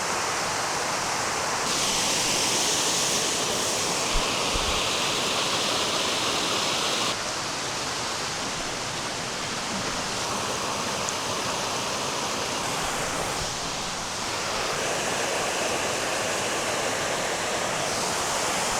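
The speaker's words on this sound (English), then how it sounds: "That's a really cool waterfall." A waterfall pours straight out of a mountainside in central Montana, giving a steady, full roar that holds at a constant level without pause.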